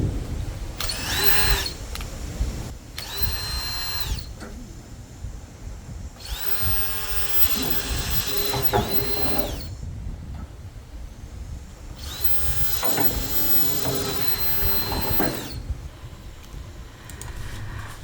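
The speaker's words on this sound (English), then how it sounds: "I think I'll drill a few holes and come back with my pop rivets." Power drill boring holes for pop rivets in vents, several separate bursts of high whining drilling a few seconds each, with quieter pauses between them, close and loud.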